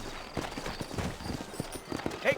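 Horse hooves clip-clopping at a slow walk in Red Dead Redemption, set in New Orleans: soft, uneven footfalls fairly close, with a faint whinny near the end and no talk over them.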